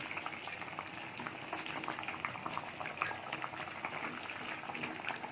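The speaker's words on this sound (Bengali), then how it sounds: "ঝোলটা ফুটে গেছে, আলুও সিদ্ধ হয়ে গেছে।" Fish curry broth with potatoes bubbles at a steady boil in a pot, a close, continuous burble of popping bubbles and liquid churning at moderate volume.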